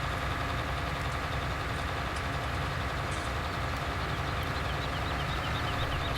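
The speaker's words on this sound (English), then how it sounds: "Seems to compact very quickly with that John Deere" Steady, dense low engine drone of a John Deere tractor compacting silage in Farming Simulator 19, a continuous heavy rumble at even loudness with no pauses and no talk.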